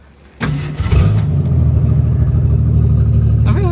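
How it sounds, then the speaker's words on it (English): An inline-six car engine with no exhaust pipe fitted cranks briefly, catches and settles into a loud, rough, rumbling idle close by, with a short chirp near the end. "What do you think an inline 6 with no pipe on it sounds like?"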